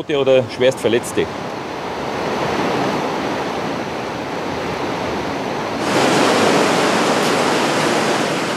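Water rushes loudly through a gorge, a dense roaring wash that grows louder toward the end, with a few short bursts of a person talking at the start.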